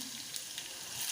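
Garlic frying in hot oil in a kadhai while preparing a Maharashtrian potato bhaji, giving a steady, close, continuous sizzle that stays even throughout, with no talk.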